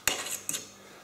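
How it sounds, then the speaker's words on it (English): Spiced lamb couscous being stirred in a pot with the lid off, heard as two quick metallic clinks of a spoon against the pot, each trailing into a brief scrape, then quiet. "Just give that a quick stir up."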